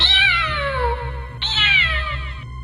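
A cat lets out two long, drawn-out meows, the second starting sharply just after the first fades, loud and near with a wailing quality.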